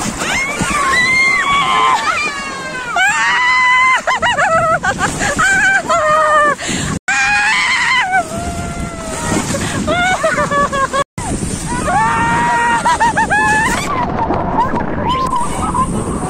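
Riders on a water coaster at a Bandung amusement park shriek and scream in repeated rising bursts over rushing, sloshing water and wind buffeting the microphone, with brief pauses between the loud waves of screaming.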